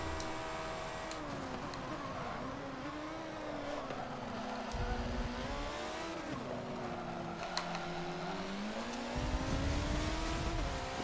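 A race car engine in the video game Forza 7 rises and falls in pitch as it accelerates and shifts through the gears, a close, loud, sustained drone with a few ticking clicks and no talk.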